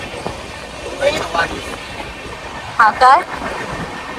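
Inside a moving train carriage on the way to Kolhapur, a steady low rumble runs throughout while people talk close by in short bursts.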